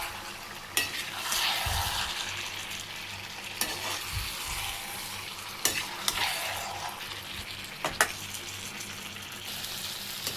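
Lemon pickle with added vinegar is stirred in a pan, a steady soft wet sizzle broken by several sharp knocks of the spoon against the vessel.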